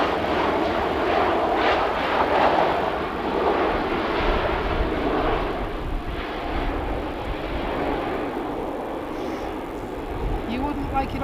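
Airbus airliner at Manchester Airport, its jet engines producing a steady broadband roar that holds loud and near throughout, with faint background voices underneath.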